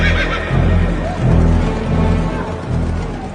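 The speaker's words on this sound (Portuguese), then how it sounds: "os mensageiros montaram cavalos ligeiros da estrebaria real" A horse neighs over galloping hoofbeats as a loud, close sound effect in a Portuguese audio Bible reading of the book of Esther.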